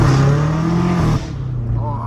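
A straight-piped 650 hp BMW M5 Competition engine roaring loud and close, then dipping abruptly during a gear shift before pulling again at a lower, rougher drone; a voice briefly talks over it.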